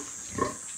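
A pig in a dirty pen on a farm in the Philippines gives a single brief, moderately loud grunt over steady background noise.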